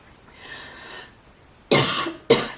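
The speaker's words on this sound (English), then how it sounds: "Started coughing incessantly." A person coughs, a soft breathy rasp followed by two loud harsh coughs in quick succession, close and alone with no talking.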